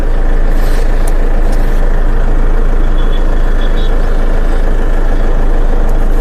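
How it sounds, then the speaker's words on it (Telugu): A 2016 Toyota Innova G4 diesel engine idling with a steady, loud, close low rumble and constant hum throughout, no voices. "ఇంజన్ కరకరలాడుతుంది"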